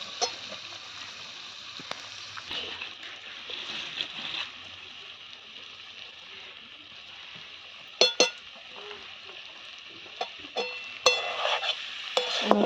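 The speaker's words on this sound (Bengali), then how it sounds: "এবার সমস্ত মশলা আমি ভালো করে কষিয়ে নেব।" Spices with Kashmiri chilli powder fried and stirred in a pan for a pangas fish and potato curry, a low steady sizzle broken by intermittent metallic scrapes and clinks of the spoon.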